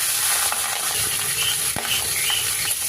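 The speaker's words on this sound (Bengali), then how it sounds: "তেল গরম হয়ে গেছে, মাছের মাথাগুলো দিয়ে দেবো।" Rohu fish heads rubbed with salt and turmeric fry in hot oil with a steady, loud sizzling hiss, broken by a few faint clicks and pops.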